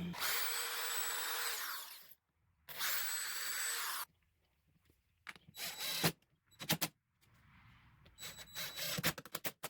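A power drill drives screws into a water-damaged wooden dresser in several loud, close bursts of whirring, separated by short silences and quieter handling noises.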